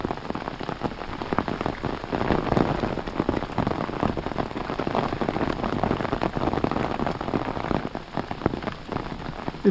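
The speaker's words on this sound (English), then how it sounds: "Well, now you've seen the rain coming down." Heavy rain falls without pause along the Appalachian Trail, a close, even roar of countless drops pattering on the surrounding surfaces, with no one speaking.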